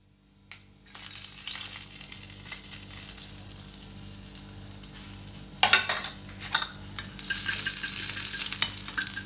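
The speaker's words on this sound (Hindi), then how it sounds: "ऑयल गर्म हो रहा है, हम इसमें डालेंगे कुटी मिर्च।" Crushed chili drops into hot oil for a tempering, setting off a sudden, loud, steady sizzle that keeps crackling, with a few sharper spattering bursts later on and no voices.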